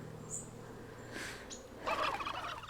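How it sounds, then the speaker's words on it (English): Turkeys in the video game Wytchwood give short gobbling calls, faint and a little distant, scattered over a low ambient game hum, with a fuller gobble toward the end. "flipping turkeys"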